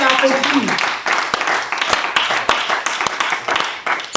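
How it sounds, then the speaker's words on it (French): A church congregation claps in acclaim of Jesus Christ, with sharp, rhythmic handclaps that continue under a preacher's voice speaking over them. "On acclame le Seigneur Jésus-Christ."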